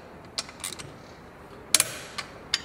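A long wrench tightens the flange bolts on a Vespa S 150 during a Malossi kit install, making a few sparse, quiet metallic clicks and creaks at irregular intervals.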